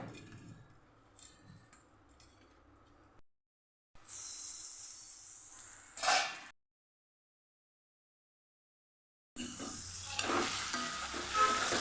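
Spiced potato and vegetable pauva being stirred in a frying pan, soft scraping and clinking of a utensil against the pan with intermittent sizzling, broken by short silent gaps.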